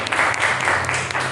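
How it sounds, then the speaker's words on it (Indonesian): Brief burst of applause from students in a classroom, a dense patter of clapping hands lasting just over a second, moderately loud and close, with no talking. "Tepuk tangan untuk Mbak Farisa."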